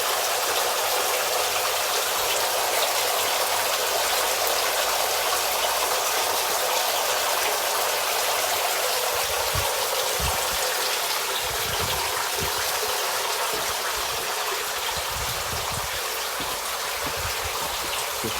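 A pond vacuum cleaner's pump outlet gushes water continuously into a fish pond, a steady close broadband splashing rush with a few low thumps partway through.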